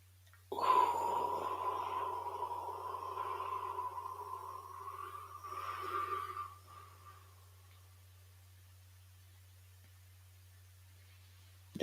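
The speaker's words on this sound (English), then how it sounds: "Try that 4-7-8 breath that we were talking about the other day. Inhale for 4. Hold for 7. Exhale for 8." A slow breathing exercise: a long, steady breath lasting several seconds, loud and close, then fading into near silence over a low constant hum.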